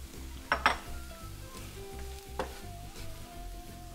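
Celery hitting a hot frying pan of shakshuka base, giving a soft steady sizzle with a couple of brief clinks of utensil against the pan near the start, close and moderately quiet with no talking.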